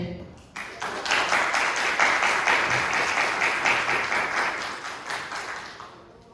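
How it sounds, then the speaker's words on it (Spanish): Audience applause welcoming a lecturer to an environmental talk at a university, a dense, steady wash of many hands clapping that swells in after a brief lead-in and holds loud for several seconds. "Demos un fuerte aplauso, por favor, a la maestra y le damos la bienvenida."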